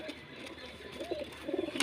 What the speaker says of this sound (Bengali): এটা তো এই পায়রাটা নর পায়রা